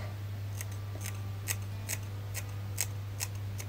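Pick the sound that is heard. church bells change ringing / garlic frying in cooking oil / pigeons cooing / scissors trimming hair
scissors trimming hair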